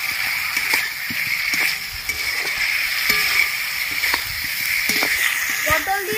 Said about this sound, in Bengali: ভেজে রাখা পটলগুলো দিয়ে দিচ্ছি।